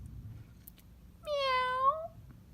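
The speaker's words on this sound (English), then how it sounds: ""Meow," whined Katje." A cat gives a single drawn-out, whining meow, fairly close and quiet, in an otherwise hushed indoor setting.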